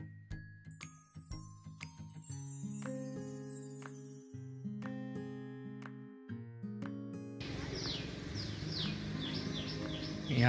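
Tinkling melodic tones play first, then a burst of busy bird chirping takes over for the last few seconds, close and lively, in Gulawat Valley, India.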